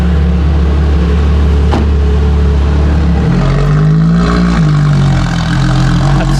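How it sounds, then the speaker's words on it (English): A deep, loud LaFerrari engine rumbles steadily up close in a garage, its pitch shifting and swelling as it revs before settling back to a throaty idle. "enjoy some grumbles as the car goes back into the garage"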